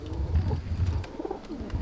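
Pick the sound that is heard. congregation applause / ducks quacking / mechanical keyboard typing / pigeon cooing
pigeon cooing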